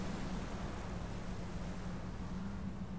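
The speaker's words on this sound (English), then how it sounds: "Okay, I hear the waves." Ocean waves in the video game Outer Wilds, a steady, loud rush of surf and wind-like noise that holds without a break for the whole stretch, with no talk over it.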